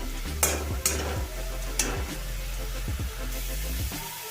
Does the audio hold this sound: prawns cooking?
yes